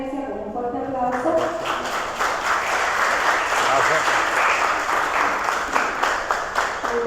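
Audience applause closing an academic conference in a university hall, a dense sustained round of clapping that swells and holds for several seconds after a brief voice at the start.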